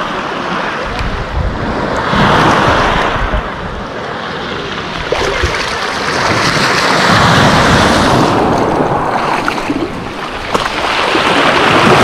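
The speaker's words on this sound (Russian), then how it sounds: "Опять все волны в районе катамарана" Steady roar of Black Sea surf at Lazarevskoye with light waves washing in and surging near a catamaran, broadband and continuous, with some wind rumble throughout and no voices.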